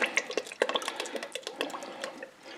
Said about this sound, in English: we want a few healthy shakes of the Worcestershire sauce